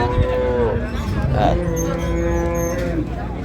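Cows and calves moo at the busy Raniganj cattle market in Dinajpur, with several drawn-out lowing calls close by over a steady murmur of crowd noise.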